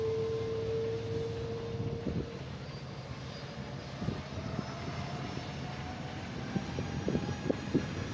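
Fixed-wing airplane engine droning past at a distance, a steady, faint, broad roar with a low hum, alone without talk.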